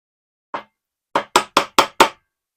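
A mallet striking a metric chisel of roughly 5/8 inch into wood on a portable Moxon vise: one lone knock, a pause, then five sharp, evenly spaced blows, close and loud.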